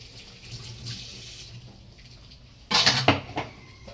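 Cooking oil sizzling and spattering in a hot frying pan, before onions and broccoli go in. After a quiet stretch, a short, loud, close burst of crackling hiss flares up and then fades.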